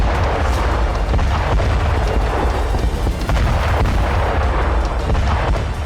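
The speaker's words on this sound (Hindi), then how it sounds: "डोनेट्स्क के टोरेत्स्क में मौजूद रूसी बॉम्बर्स ने भीषण बमबारी की।" Russian bombers bombard Toretsk in Donetsk, a dense roar of heavy explosions and rumbling booms with sharp bursts throughout, loud and continuous, without speech.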